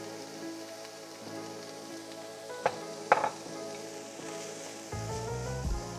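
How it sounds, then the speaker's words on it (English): Onions sautéing in rendered beef fat inside a Dutch oven, a steady crackling sizzle with a few sharper pops from stirring partway through. "I'm going to saute these around a bit."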